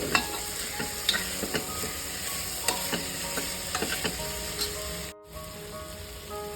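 Mashed garlic and hing fry in a pan with a bright, steady sizzle, broken by repeated clicks and scrapes of stirring and a brief drop near the end.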